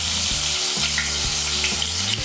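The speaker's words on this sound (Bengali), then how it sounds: "এই তেলের মধ্যে আলুগুলো ভেজে নেব।" Medium-sized potato pieces fry in hot oil with a loud, dense, continuous sizzle, and low scraping strokes from stirring come at a steady pace, close up.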